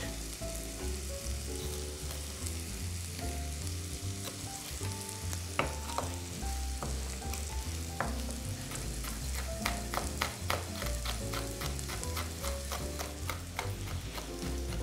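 Finely chopped, deseeded green chili pepper fries in a pan with a steady sizzle and intermittent stirring scrapes, set against a soft tonal background.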